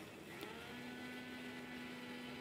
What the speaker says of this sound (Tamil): கொஞ்சமாக மஞ்சத்தூள் மிக்ஸி ஜாரில் நல்லா ஒரு ஓட்டு ஓட்டுவோம்